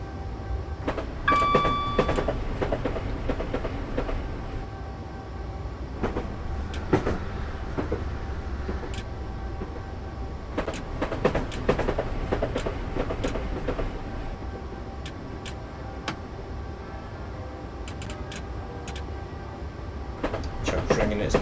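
Train in the Train Simulator 2020 game running over bumpy rails, a steady rumbling roll punctuated by irregular sharp clunks and knocks, with a faint voice talking over it.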